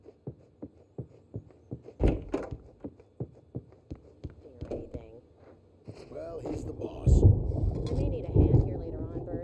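A thunderstorm in the video game Alan Wake: low rumbling thunder builds and rolls heavily toward the end, after a run of evenly spaced dull thumps, loud and close with rain-like wash underneath.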